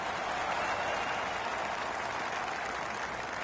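A PGA Tour golf crowd cheers and applauds an eagle, sustained dense clapping mixed with crowd noise at a steady, moderate distance throughout.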